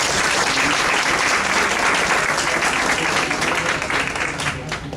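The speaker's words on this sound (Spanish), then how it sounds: "Un aplauso para" Sustained applause from an audience at a talk on quality management and food safety, dense and steady clapping that fills the whole stretch and eases off slightly near the end, with no voices over it.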